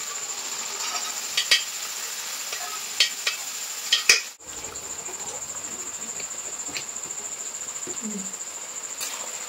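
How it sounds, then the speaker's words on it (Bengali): Boiled yellow peas are stir-fried in rendered mutton fat, producing a soft steady sizzle with sharp clicks of a spatula striking the pan, plus a faint high tone in the background. "আমি মটর দিয়ে একটু কষিয়ে নিয়েছি।"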